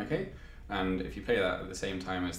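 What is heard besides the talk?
No everyday noises stand out.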